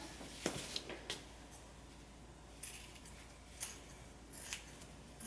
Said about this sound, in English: Cutting away all my extra fabric